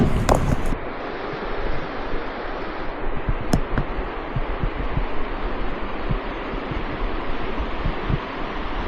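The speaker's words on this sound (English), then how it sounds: "I hear the creek." A year-round creek on wooded rural land gives off a steady, broad rushing wash of flowing water, heard from a short distance and unbroken throughout, with a few small knocks and rustles.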